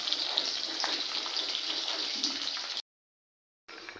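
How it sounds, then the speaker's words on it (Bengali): Small hilsa fish frying in a pan, a dense continuous sizzle close by that cuts off abruptly for a moment before resuming, with no talking. "এই যে দেখো মাছ ভাজা বসানো হয়েছে"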